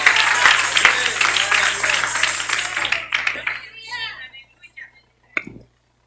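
A church congregation breaks into applause of praise, a dense burst of clapping mixed with voices that fades over several seconds, leaving a few scattered claps and a final brief sound.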